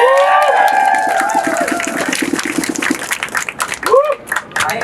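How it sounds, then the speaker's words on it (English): Applause and cheering from a crowd at a protest rally for reproductive and immigrant rights, with clapping and whoops under talk that breaks up and thins toward the end. "Give Brett a round of applause"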